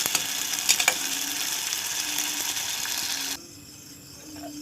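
Sardines stirred and frying in a pan with onions for a Filipino sardines-with-egg dish, a steady sizzle with scraping and clinking of a utensil, which drops abruptly to a quieter simmer near the end.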